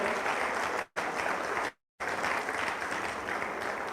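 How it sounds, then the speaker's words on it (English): Steady audience clapping at a Nigerian forum event, a dense wash of applause broken by two brief silent gaps before resuming at the same even level. "Keep clapping,"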